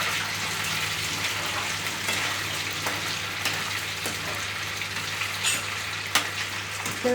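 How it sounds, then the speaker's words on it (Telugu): Boiled prawns sizzling steadily in hot oil for a prawn pickle, a close, continuous broadband frying hiss with faint crackles and pops, no voices. "అలా బాయిల్ చేసి తర్వాత దాన్ని మళ్ళీ ఆయిల్లో ఫ్రై చేయాలి"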